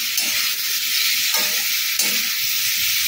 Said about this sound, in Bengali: টমেটোটা যতক্ষণ না নরম হয় ততক্ষণ আমি এটা ভাজতে থাকবো